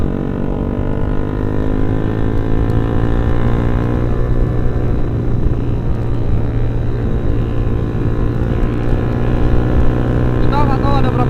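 A large group of around thirty Yamaha R15 motorcycles cruises together on a night ride, a loud, steady, droning engine rumble close by that holds even throughout, with a voice briefly audible near the end.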